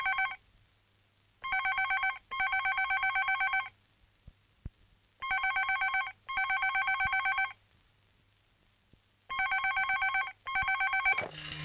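A telephone bell rings in four clear double bursts, loud and close, with silent gaps between rings and no talking over it.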